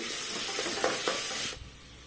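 Spices with turmeric and ground black pepper frying in a pan give a close hissing sizzle with a couple of stirring scrapes, then the sound drops away abruptly near the end.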